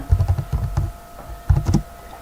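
Keys on a computer keyboard are tapped in two quick bursts of close, crisp clicks separated by a short pause, while a command is typed.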